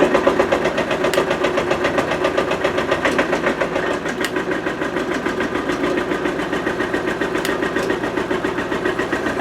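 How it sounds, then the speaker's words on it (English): A small engine with freshly rebuilt carburetors idles steadily and close by, a continuous rhythmic chugging with faint ticking, slowing slightly as the idle is turned down. "slow down the idle a little bit."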